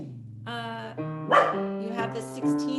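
A dog barks repeatedly indoors, a run of loud, close, harmonic barks and yips packed one after another, with a few brief words from a person mixed in between them.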